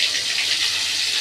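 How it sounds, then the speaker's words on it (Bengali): Butter dropped into hot white oil in a wok gives off a steady, loud, broadband sizzle that hisses on evenly and on its own. "তেলটা গরম হয়ে গেছে, এবার কিছুটা বাটার দিয়ে দিলাম"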